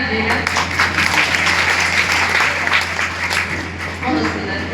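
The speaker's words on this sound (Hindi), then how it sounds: "तो एक बार तालियां बजा दीजिएगा।" Dense, steady applause from an audience at a Hindi poetry performance fills the space, a continuous wash of many hands clapping at once.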